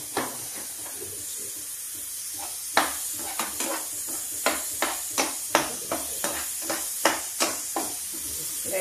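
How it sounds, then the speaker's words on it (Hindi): Masala with salt and Kashmiri chilli cooks in a pan over a high gas flame, giving a steady close sizzle and hiss broken by regular scraping clicks as a spoon keeps stirring it. "गैस तेज करते हैं, मसाले को पकने देते हैं। मसाला धीमे धीमे हम इसको चलाते रहेंगे।"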